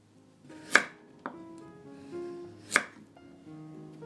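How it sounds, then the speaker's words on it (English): Two sharp, close knife chops land on a cutting board as peeled taro is sliced, spaced about two seconds apart, with a lighter tap between them and quiet gaps around each cut. "Then, slice it into"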